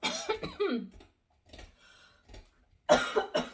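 Several harsh, close coughs break out in two clusters separated by a short quiet pause.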